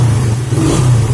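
A Suzuki Satria F150 motorcycle engine runs just after its cylinder head was refitted, holding a loud, steady, close-up hum at an even idle with no talking.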